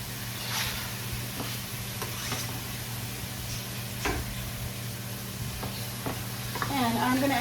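Tomatoes go into a sizzling pan of translucent onions and garlic for albondigas con fideo, with a steady fry hiss throughout, broken by several scraping stirs and a louder burst of sizzle near the end.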